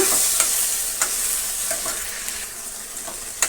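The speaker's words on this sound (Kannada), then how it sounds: "ಈಗ ಇದನ್ನು ನಾವು ಡ್ರೈ ಆಗೋ ತನಕ ಫ್ರೈ ಮಾಡ್ಕೊಳ್ಳೋಣ" Tamarind fries in a pan for okra sambar, a loud close sizzle broken by sharp spatula scrapes and taps against the metal as it is stirred dry.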